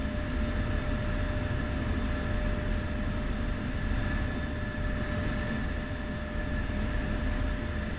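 Steady, loud jet engine roar from an F-18 in a flight simulator game, a continuous broadband rumble with a constant whine that never lets up and has no voices over it.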